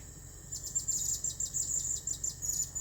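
A bird gives a rapid, repeated series of high calls in short pulsing bursts, moderately loud against a faint steady background.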